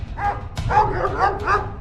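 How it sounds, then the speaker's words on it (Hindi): Dogs in a desi comedy cartoon chase scene bark and yip in a quick run of about four sharp, close barks over roughly two seconds, with no talking. "ये कुत्ते तो हमको खा जाएंगे"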